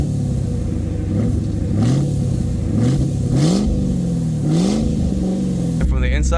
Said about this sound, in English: let me give you guys some revs